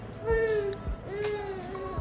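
A baby fusses and whimpers in short, whiny cries close by, with a few soft thumps in the background.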